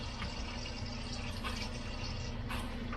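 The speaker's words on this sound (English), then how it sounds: "we're going to take some hot water out of the sink and put in there" Hot water from a kitchen sink pours into a canning pot for pickles, making a soft, continuous rushing splash at low volume with a few brief swells.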